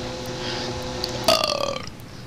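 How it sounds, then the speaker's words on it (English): A person lets out a single loud burp, a drawn-out croaky belch of about half a second that rises over quiet room background and fades away. "Quit burping, man."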